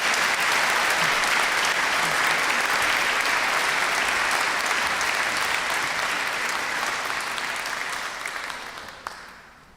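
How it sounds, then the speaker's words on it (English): A graduation ceremony audience claps in a dense, sustained round of applause that holds steady for several seconds before tapering off near the end, with no voices over it. "one last round of applause for everyone"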